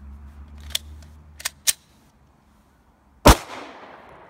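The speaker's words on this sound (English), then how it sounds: "Let's just see if that'll detonate its second time through the pistol." A Glock pistol fires a Winchester White Box round with one sharp, loud report after a few quieter metallic clicks and handling sounds, followed by a brief echoing decay.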